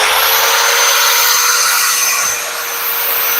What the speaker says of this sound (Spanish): Y acciono el movimiento del taladro.